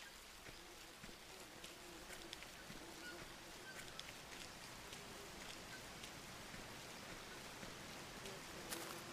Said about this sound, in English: You get dirty and you're walking around doing stuff and it's raining